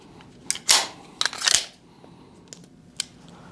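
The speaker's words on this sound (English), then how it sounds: "I will insert my empty magazine into my gun, and I'm going to bring the slide forward." Metallic handling clicks as an empty magazine is seated into a pistol and the slide is brought forward for dry-fire practice, a cluster of close, sharp clacks followed by two brief ticks in a quiet room.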